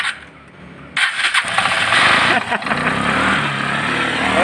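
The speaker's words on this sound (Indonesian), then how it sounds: "mudah-mudahan bisa hidup nih motor Vespanya" A Vespa automatic scooter that would not start sputters and catches, its engine rising into a steady, close, loud running note after a brief quiet lead-in.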